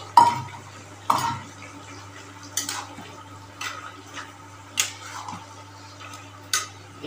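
Bori (dried lentil dumplings) dropped into a pot of sweet-and-spicy cold curry and stirred, with a few sharp clinks and scrapes of a spoon against the pot spaced out over a low background hum.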